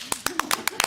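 Brief scattered clapping from a few people at a board of education meeting, about seven or eight sharp claps in an uneven rhythm, close and short.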